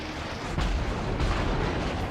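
Heavy battleship guns firing in a naval warship game, with the USS Arizona engaging a destroyer: a dense, rumbling boom that swells at about half a second and again near one and a quarter seconds, under continuous loud low roar.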